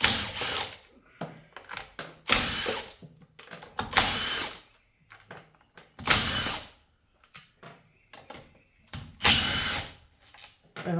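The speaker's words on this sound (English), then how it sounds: "So we're just gonna start there and start taking bolts out." Bolts being worked loose from the valve body of a 2020 Kia/Hyundai 8-speed automatic transmission, heard as repeated short bursts of a power driver or ratchet with quiet gaps between them, close by.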